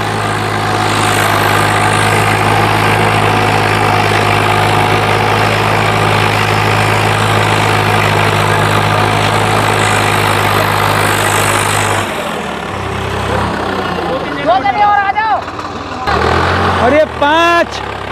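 A loud, heavy tractor engine (744) drones steadily under strain pulling a nine-tine tiller through a field in a tractor competition, then drops away, leaving a voice speaking over quieter engine noise.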